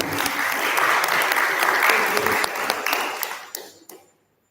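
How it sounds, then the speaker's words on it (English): An audience at a school English speech contest and storytelling event applauds a participant's performance, a steady broad wash of clapping that holds for about three seconds, then thins and fades out quickly. "Once more, give a big round of applause, everyone"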